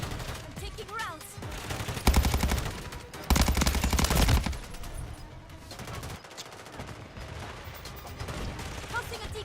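Heavy gunfire strikes a player in Call of Duty Modern Warfare Zombies: two loud, dense bursts of rapid shots ride over a constant rumble of game noise and effects.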